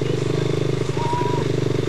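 A rally-raid motorcycle at full throttle, its engine holding a loud, steady, pulsing drone throughout with a faint clatter in the background.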